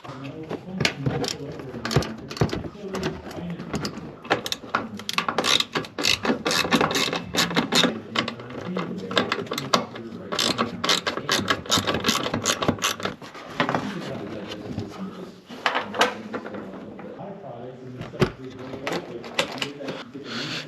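Screws being removed from the front bumper trim of a 2016-2018 Chevrolet Camaro SS: close, rapid ratcheting clicks in repeated bursts, with someone talking through parts of it.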